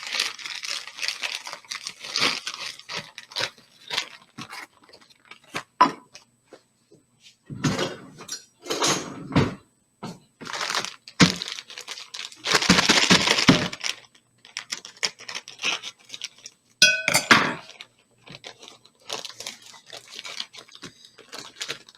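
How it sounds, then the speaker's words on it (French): Brown sugar is scooped and pressed firmly into a measuring cup, giving bursts of gritty crunching, scraping and crinkling at an irregular pace, close and fairly loud, with brief quiet gaps between. "Je remplis ma tasse avec la cassonade et pousse dessus pour qu'elle soit complètement ferme."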